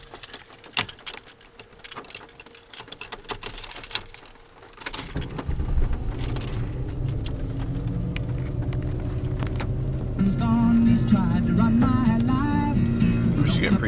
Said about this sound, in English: going to start the car up to kind of show you how it works